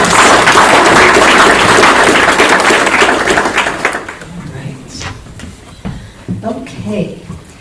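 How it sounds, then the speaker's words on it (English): Audience at a Teton County primary election forum gives a loud, dense round of applause for the candidates running for office, fading out after about four seconds before a voice begins speaking. "can we please have a round of applause for these brave people who are running for public office?"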